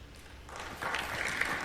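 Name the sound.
applause in a legislative chamber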